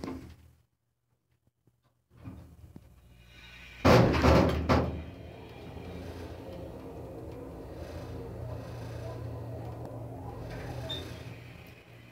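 Door of an old American hydraulic elevator in a Linden Oaks building in Gladstone, Missouri, opening glitchily: quiet stretch, then a loud mechanical clatter and thump followed by a low steady hum and rattling.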